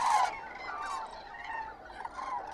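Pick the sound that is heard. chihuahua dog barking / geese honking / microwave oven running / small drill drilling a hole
geese honking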